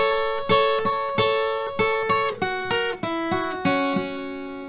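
Acoustic guitar plays a Delta blues lick across the top three strings: plucked and strummed notes in a loose rhythm, each chord ringing and decaying, close and clear.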